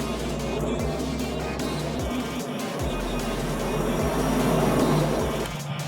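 Airplane engine drone heard from outside in the RFS flight simulator, a steady low rumble with rhythmic pulsing beats as the sound shifts between front and behind, no talking.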